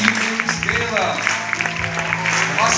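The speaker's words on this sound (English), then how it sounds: "Let us give a resounding applause to our choirs for this evening's gala." An audience applauds the choirs at a gala celebrating 50 years of Jesuit music, a broad, continuous clapping that runs beneath a voice speaking over the crowd.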